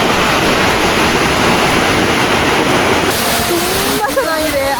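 Waterfalls at a scenic outing spot with over a hundred falls, heard as loud, steady broadband rushing water throughout, with faint voices and brief tonal sounds rising near the end.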